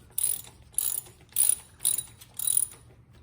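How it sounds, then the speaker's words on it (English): A 3/8 ratchet with a socket loosens a primary cover bolt on a Harley-Davidson Dyna Street Bob, giving five short, crisp clicking bursts at an even pace, close up and alone. "you're going to take your 3/8 socket head with your 3/8 ratchet, put into that bolt"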